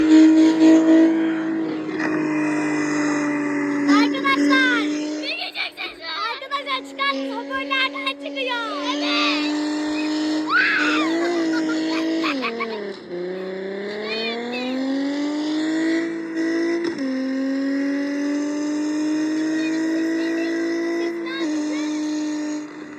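A car in the Car Parking mobile video game revs continuously with rising and falling engine pitch, plus bursts of game effects as it jumps and shoots flames, while a young voice talks over it.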